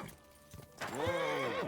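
A horse in the medieval game Kingdom Come: Deliverance II lets out a loud, close whinny with a wavering pitch, preceded by a few soft hoof clops and rustling.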